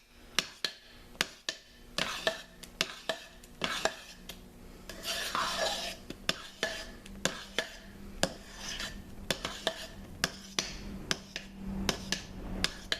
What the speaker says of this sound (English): And I'm also stirring to help melt the super fats.